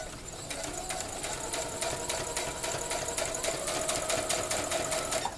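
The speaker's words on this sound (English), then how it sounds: "continue sewing toward the corner of your square" A sewing machine stitches steadily along a fabric seam toward the corner of a quilting square, with a continuous fast rhythmic needle clatter, close and even throughout with no pauses.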